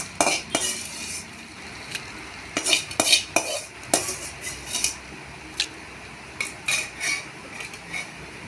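A spoon repeatedly scrapes and clanks against a metal pot while green gram curry is mixed, producing irregular close knocks and scrapes over a faint sizzle, with no voices.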